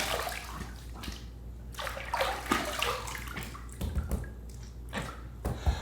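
Water splashed onto the face to rinse after a shave, a series of irregular wet splashes and trickles, close and fairly quiet, with brief pauses between scoops.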